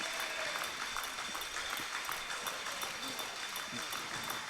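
Wrestling crowd clapping at a rumble event as a wrestler tries to build a rhythm, the claps pattering through the arena at a distance while a commentator talks over them.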